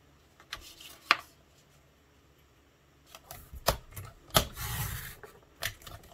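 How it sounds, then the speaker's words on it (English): A paper trimmer cuts paper up to a score line for a handmade 3x5 notepad, with a few separate quiet clicks and rasping slides close by in a quiet room, no talk. "I like to put mine in my paper trimmer"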